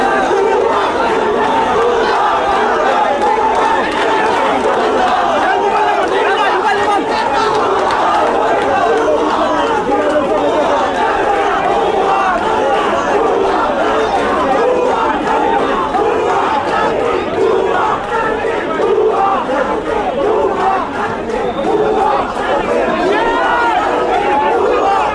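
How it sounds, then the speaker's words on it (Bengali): A dense crowd of students chants slogans in unison at an outdoor election campaign speech, loud and continuous with overlapping shouting voices throughout. "তার অপর পাশে কিন্তু শিক্ষার্থী যারা রয়েছে তারা কিন্তু ভুয়া ভুয়া স্লোগান দিচ্ছেন"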